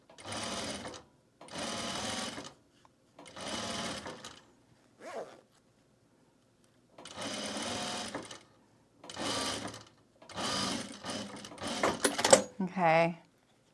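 A sewing machine stitches a self-drafted bag in repeated close bursts of steady whirring, each a second or so long with short silent gaps, and a few brief taps and clicks near the end.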